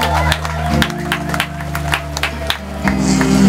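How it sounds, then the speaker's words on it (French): A crowd claps and cheers in scattered bursts at an official handover ceremony for local development infrastructure in North Kivu, with sharp claps standing out over a steady hum of background noise. "Sous vos applaudissements, tout Changuilier"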